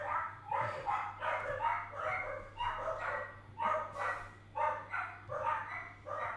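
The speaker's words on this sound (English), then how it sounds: "sorry, I have dogs." Several dogs bark repeatedly in a steady, rhythmic series of loud, close barks over a low steady hum, with no speech, indoors during a board game unboxing.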